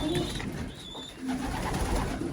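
A young pigeon coos softly amid a busy pigeon loft, low murmuring calls repeating over steady background hiss and rustle.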